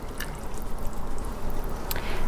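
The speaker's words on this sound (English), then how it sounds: "I'm going to pour the wet ones in it" Wet ingredients for a vegan chocolate cake pour into a bowl of dry ingredients, giving a close, steady liquid splash with a couple of brief sharper clinks.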